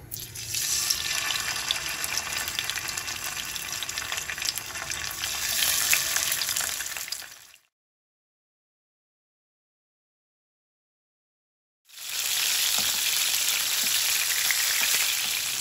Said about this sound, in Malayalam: എണ്ണ ചൂടായിട്ടുണ്ട് മീൻ ഇട്ട് കൊടുക്കാം